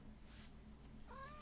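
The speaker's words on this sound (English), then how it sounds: "Oops, that's the cat." A house cat gives one short, faint meow near the end, rising out of a quiet room hum, with no talk.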